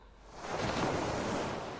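Ocean waves swell up from quiet into a broad, sustained wash of surf, part of a tabletop RPG music track heard alone and fairly soft.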